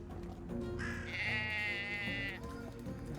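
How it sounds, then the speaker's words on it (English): A sheep in the Drova Forsaken Kin video game gives one clear, wavering bleat lasting about a second and a half over soft game ambience and background music. "Little sheep."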